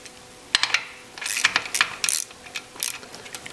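A bolt is tightened on a timing chain guide in an air-cooled Porsche engine block, heard as a close run of quick metallic ratchet clicks and tool taps in short bursts, fairly quiet, with no talking.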